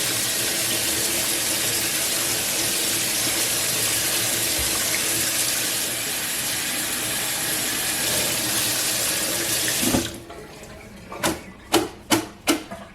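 A bunch of rosemary is washed under a running kitchen tap, with a steady rush of water for about ten seconds, then the flow stops and a few sharp knocks and clatters follow close by.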